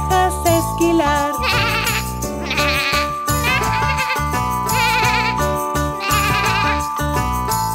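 Sheep bleat repeatedly in a bright Spanish-language children's farm song, their wavering calls woven among loud, busy music and sung melody.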